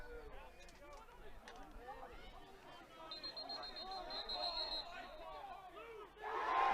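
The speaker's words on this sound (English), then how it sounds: "You gotta love the pop coming from this crowd" Crowd at a men's college lacrosse game between the Lynchburg Hornets and St. Mary's Seahawks: a distant, quiet murmur of chatter and shouts that swells into a louder cheer at the very end.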